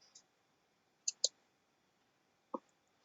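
Several crisp mouse clicks on a computer running Windows Server network settings: a quick double click near the middle and another single click later, close and clear over a quiet background.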